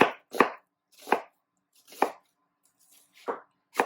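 A kitchen knife slices an onion into thin quarter-inch rings on a cutting board for grilling: six crisp, evenly spaced chops, about one every 0.8 seconds, close and clear with quiet gaps between.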